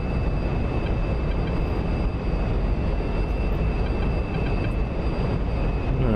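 SR-71 engines roaring at full afterburner in the DCS flight simulator, a loud, steady, dense broadband rumble holding without a break throughout.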